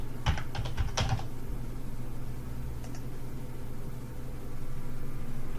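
A computer keyboard is typed on in a quick burst of close, crisp clicks at the start, followed by a single faint tap later, over a steady low hum in a quiet room.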